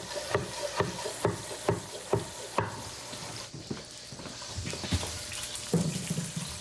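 Onions and bacon frying in a pan, a steady sizzle under repeated rhythmic scraping and stirring strokes, close and moderately loud with no talking.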